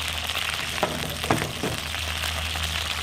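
Steady crackling sizzle of peppers frying in plenty of hot oil in a pan on a wood-burning stove, with a few louder pops and spits partway through.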